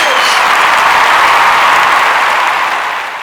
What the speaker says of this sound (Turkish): Alkış bekliyorum burada. Alkış!